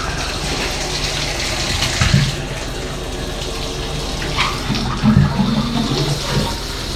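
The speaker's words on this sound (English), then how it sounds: "Check out the shower head and see if it works right." Water from a hotel bathtub's shower head runs steadily into the tub, a close, continuous hiss and splash with a few brief shifts as the flow is disturbed.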